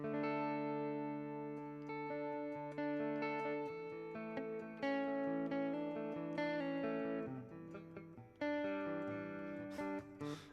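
Electric guitar on the neck pickup through effects, sustained warm chords and notes ringing continuously with a slightly distorted, chorused sheen, fairly loud and up close with no talking.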